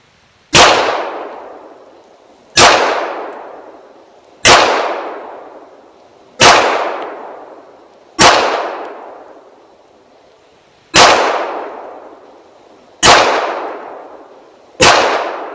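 Hi-Point JHP .45 ACP pistol firing Federal rounds outdoors at a target hung on a tree: eight loud, sharp reports spaced about two seconds apart, each with a short decaying echo and no talking.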